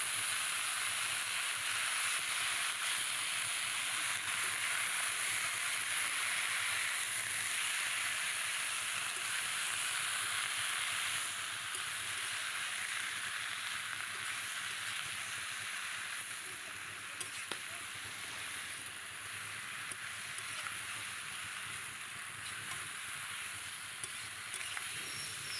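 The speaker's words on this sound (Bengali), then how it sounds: "পালং শাকটা দিয়ে খুব বেশি নাড়তে হবে না, সামান্য নেড়েই জল দিয়ে দেবো।" Spinach stirred briefly into a hot pan of mixed fish, giving a steady, close, dense sizzle and hiss that runs unbroken for the whole stretch, with no voices.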